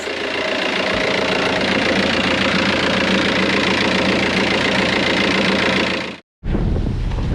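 Boat engine running steadily after its fuel pump is primed, a loud continuous knocking drone held close for about six seconds, then a sudden brief cutout and a quick return.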